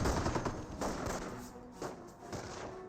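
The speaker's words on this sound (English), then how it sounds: "we've got the snipers firing against the riflemen" Scattered gunfire from a Company of Heroes 1 battle, US snipers shooting at Wehrmacht Volksgrenadier riflemen, with several sharp shots and thuds popping over a steady wash of distant battlefield noise.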